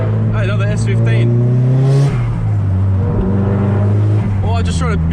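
Nissan Silvia S15 engine revving in a cruise among other Japanese cars, loud droning tones rising and falling through several rev sweeps, with a sharp burst near the middle.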